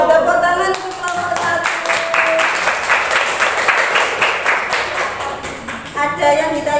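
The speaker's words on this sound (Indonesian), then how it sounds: "Tepuk tangan untuk kelompok" A classroom audience claps for a student group presenting, a dense patter of hand claps lasting several seconds with voices mixed in.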